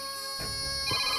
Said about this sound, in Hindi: सीता ये माँ का ही फोन है, मेरी माँ ने मुझे फोन किया है।